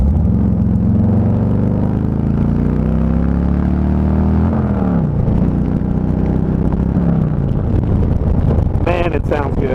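A Harley-Davidson Milwaukee-Eight bagger with a budget aftermarket exhaust and homemade stage 1 setup revs loudly and steadily, with harmonic engine tones rising and falling across the clip and a few sharper blips near the end.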